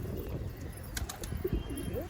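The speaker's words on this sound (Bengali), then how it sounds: "এই হচ্ছে পায়রাটা" Madrasi pigeon for sale at a loft, giving a few low soft coos with a brief flutter of wings, close but faint against background noise.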